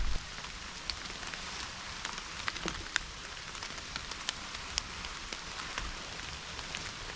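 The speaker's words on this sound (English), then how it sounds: "Still hasn't stopped raining." Steady rain patters on a surface with scattered sharper drops, continuous and fairly soft, with no voices.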